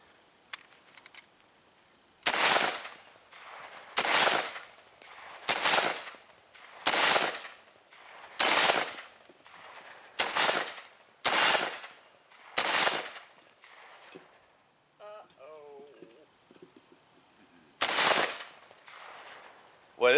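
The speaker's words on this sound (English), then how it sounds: "Well, let's shoot a rifle at it." Ten sharp, loud rifle shots from an AK firing Tula 7.62x39 ammunition, each ending in a bright metallic ring as it strikes a 10-inch AR500 steel gong, spaced a second or two apart with a pause before the last shots.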